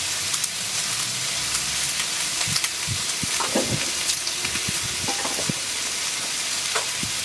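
A clove of garlic frying in a pan outdoors, a bright, steady sizzle with hiss running throughout, broken by several scraping stirs of a utensil, close and clear, without speech.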